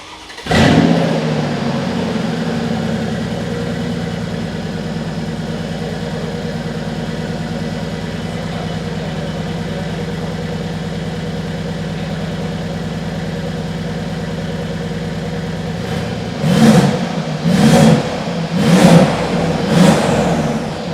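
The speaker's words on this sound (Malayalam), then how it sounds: "അത് പ്രസ് ചെയ്തപ്പോൾ എക്സോസ്റ്റ് നോട്ട് വേറെ രീതി ചേഞ്ച് ആയിട്ടുണ്ട്" A luxury pre-owned premium car idles with a deep, steady exhaust rumble for a long stretch, then near the end the engine is revved in three or four quick, loud bursts. The car is close and no one speaks.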